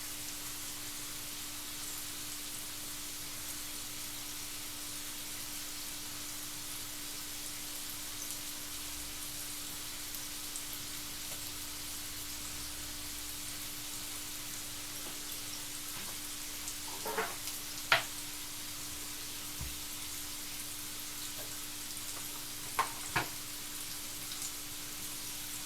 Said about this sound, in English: So you just want to make them fry nicely.